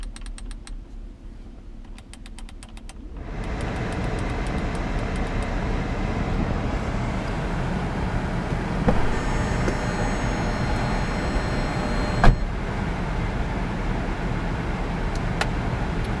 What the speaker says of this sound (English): you want to let the car idle for a good 10-15 minutes to let everything bleed